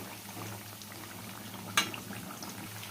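Potato french fries cooking in hot oil until crispy, a soft steady bubbling hiss with one brief sharp clink partway through, no voices.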